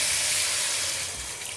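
Water pours and hisses into a hot pot of ogbono soup, a short, loud, close burst of steamy sizzling with no speech.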